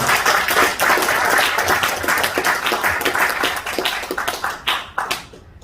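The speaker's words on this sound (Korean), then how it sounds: "박수 크게 박수 한번" An audience at a community lecture gathering in Gunsan gives a big round of clapping for a speaker, loud and crisp with distinct individual claps, tapering into scattered claps before stopping.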